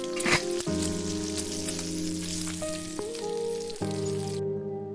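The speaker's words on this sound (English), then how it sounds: "it's hot, pour the kuku mixture in" Kuku sabzi mixture, a Persian herb-and-egg batter, sizzles steadily in a hot pan, a loud continuous frying hiss with a few soft clatters and no talk over it.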